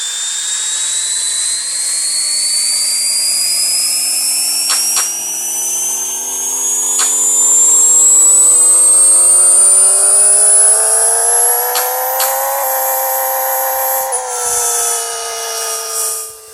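A tuned Nissan/Datsun 240Z engine revs on a dyno in the Pixel Car Racer video game, its synthetic whine climbing steadily in pitch through quick gear shifts before dropping off at the end, loud and with no talking.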